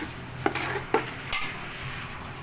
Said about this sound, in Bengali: এখন চালটা একটু ভাজা ভাজা করে নিতে হবে